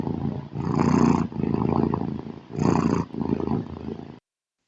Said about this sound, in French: ce qui enclencha aussitôt un volumineux ronronnement de satisfaction.